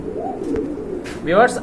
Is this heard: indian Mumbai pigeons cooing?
yes